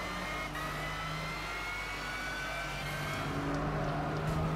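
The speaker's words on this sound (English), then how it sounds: "And we've got broken engine noises." A GT3 race car engine in Gran Turismo 6 drones at a steady high pitch with a faint whine and a broken-engine sound, continuous and fairly loud, without any voices.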